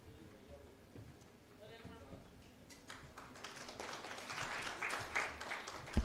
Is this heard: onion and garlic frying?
no